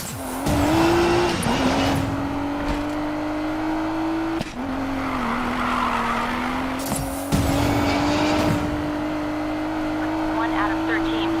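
Engines roar and tires squeal in a police car chase in the racing game Need for Speed Payback, a constant loud engine whine with skids and impacts, while voices talk over it.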